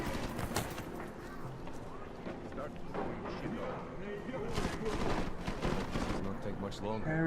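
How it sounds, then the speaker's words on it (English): Gunfire inside a bookshop in the video game Deus Ex: Mankind Divided, shots cracking in quick irregular bursts amid clattering game action, moderately loud, with a voice speaking over parts of it. "Gunfire inside a bookshop, always a good sign."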